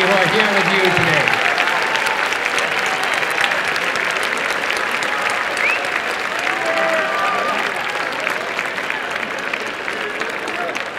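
A graduation audience at a Berkeley Engineering baccalaureate commencement cheers and applauds for friends and family, a dense, loud, sustained wave of clapping with scattered whoops throughout.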